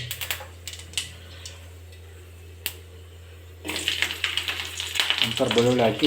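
Cumin, mustard seeds and garlic hit hot oil for dal sambar. A quiet hum with a few light clicks comes first, then a sudden loud, crackling sizzle with popping seeds takes over. A voice joins near the end.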